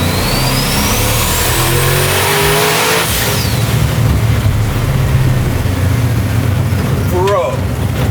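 A 1000 hp twin-turbo 1955 Chevy 3100 street-racing truck revs hard, its engine roaring loud and continuous while the pitch climbs and then drops, heard close up.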